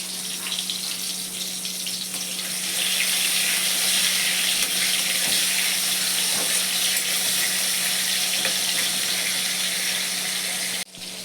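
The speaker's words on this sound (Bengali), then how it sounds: "টমেটো দিয়ে দিলাম কালো জিরে তেলের ওপরে" Tomatoes fry in oil with black cumin and salt, producing a dense, loud, steady hiss of sizzling that runs unbroken before cutting off abruptly near the end.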